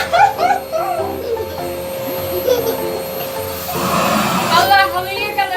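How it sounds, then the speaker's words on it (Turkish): A real household vacuum cleaner runs steadily as it sweeps up colored plastic balls, its motor whine rising midway, while people talk and exclaim over it throughout. "açalım süpürgemizi"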